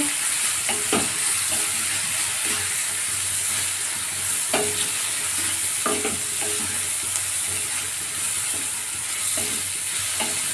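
Spices, turmeric and a spoon of sugar fry with a steady close sizzle for vegetable dal, broken now and then by soft scrapes and taps of a stirring spoon against the pan.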